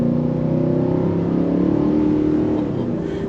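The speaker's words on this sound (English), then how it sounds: "it does have a nice growl from that V8" A 2021 Nissan Titan Platinum Reserve pickup's V8 engine growls steadily under acceleration, a loud, continuous low drone heard close up without interruption.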